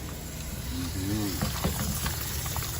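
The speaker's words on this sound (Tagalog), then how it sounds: "naghuhugas ako ng shrimp" Shrimp being washed under a running tap, a steady hissing, splashing stream of water close by with a person speaking briefly over it.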